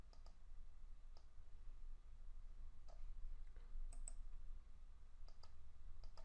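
Quiet, sparse computer mouse clicks, a handful of short isolated ticks spread out with pauses between them, heard alone over a faint steady hum.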